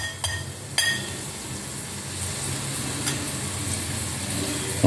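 Onion, garlic and ginger-garlic paste sauté in a pan with an even, close sizzle; a couple of sharp utensil clinks sound near the start.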